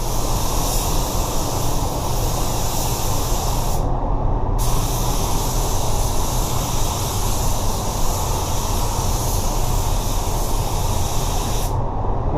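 Spray gun laying a drop coat of Axalta automotive paint, a steady continuous hiss that runs unbroken for about twelve seconds apart from two brief pauses in the spray.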